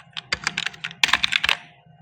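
Two quick runs of typing on a computer keyboard, crisp close keystrokes in rapid succession with a short gap between bursts, over a low steady hum.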